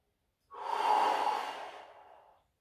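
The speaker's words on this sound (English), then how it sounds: "Inhale and exhale." A single deep exhale during a Pilates Magic Circle workout, one breathy rush of air that swells quickly and fades over about two seconds, close and alone in silence.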